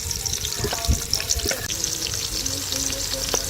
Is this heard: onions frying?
yes